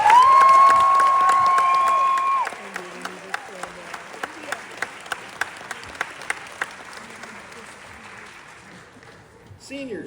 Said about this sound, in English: could you please stand now so we can give you a round of applause?